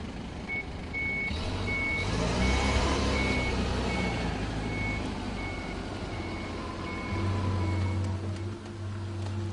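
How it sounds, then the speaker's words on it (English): A forklift backs away with its reversing alarm beeping in a steady, evenly spaced series over a low engine drone that swells and fades, fairly close, with no talk. "Reverse is then selected, the inch brake released, and the accelerator pressed down to back away"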